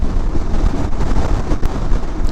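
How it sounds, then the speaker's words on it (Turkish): Loud, constant wind roar buffeting the microphone while riding a KTM 390 Adventure motorcycle, a dense low rumble with gusty fluctuations and no voices. "Öyle bir rüzgar esiyor ki sağlam sarsıyor."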